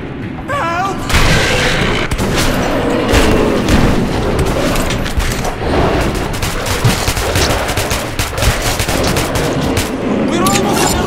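Gunfire in the video game Metro 2033 Redux, with loud, sustained bursts of shots and booms close by over a dense combat din, while voices shout throughout.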